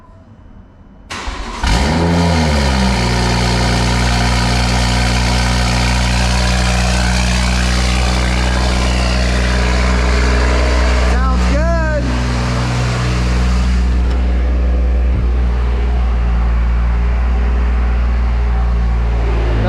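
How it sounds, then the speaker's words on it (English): A BMW M240i with a B58 engine and Pure 800 upgraded turbo fires up for the first time, the starter catching into a loud, close rev that settles into a steady idle with a brief blip midway, voices talking over it. "We're about to do the first start."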